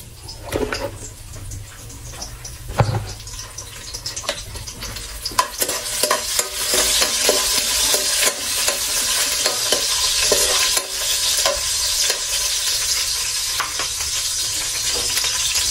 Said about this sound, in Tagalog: Diretso sa paggisa na po ito kahit matigas.